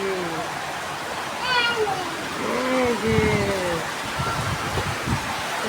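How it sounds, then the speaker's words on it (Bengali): Heavy rain driven by wind keeps up a steady, dense hiss throughout, with no breaks, while people talk close by over the downpour. "জোরে নামছে বাতাস আর বৃষ্টি হইতেছে।"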